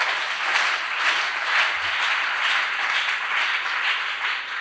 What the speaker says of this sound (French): Est-ce que quelqu'un peut bénir Dieu par des acclamations?